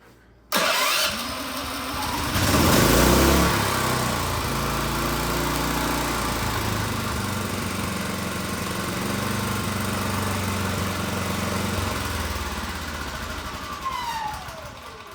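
A Champion generator engine cranks and catches almost instantly, then settles into a steady, loud, buzzing idle that holds for over ten seconds before easing slightly at the end.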